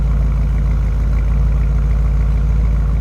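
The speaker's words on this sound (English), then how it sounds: "Nice little rumble coming out of the exhaust." A 1940 Chevrolet Special Deluxe sedan's 350 engine idles at close range with a deep, steady exhaust rumble that stays constant and loud throughout.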